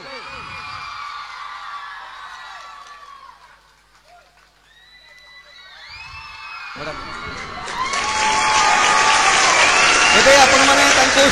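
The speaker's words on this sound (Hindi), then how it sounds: "तो दर्शक मान को अनुरोध कर जोरदार ताली हो जाऊ" At a stage event for an Odia film poster release, a loud wash of crowd applause and cheering swells up and fills the final seconds, after quieter tonal sounds and a brief lull.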